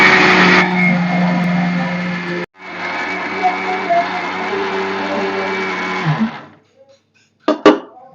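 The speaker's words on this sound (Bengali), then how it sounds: "মিক্সচার মেশিনটা নতুন, তো সুন্দরভাবে তাড়াতাড়ি গুঁড়ো হয়ে যাচ্ছে, একদম মিহি হয়ে" A new mixer grinder grinding ingredients to a fine powder, a loud steady motor whine with a brief pause around two and a half seconds, then winding down and stopping, followed by a few clatters.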